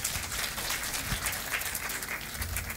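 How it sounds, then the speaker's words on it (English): Conference attendees at a 2019 children's devolution event applaud a governor, a steady crowd of clapping hands carrying on for a few seconds at moderate volume with no speech over it. "A round of applause for Governor."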